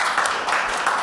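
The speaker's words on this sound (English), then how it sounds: "I'm used to clapping after that" Brief applause from the audience at a football and netball club presentation night, a soft, steady patter of many hands at moderate distance.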